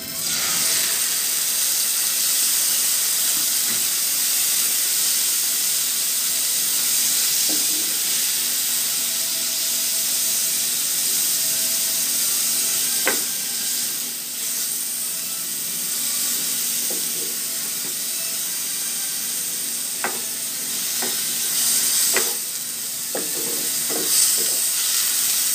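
Chicken liver sautés in a pan with vegetables, giving a continuous loud hissing sizzle like steam, with a few sharp clicks and taps of a utensil scattered through.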